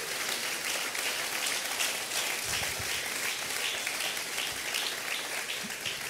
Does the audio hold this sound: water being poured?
no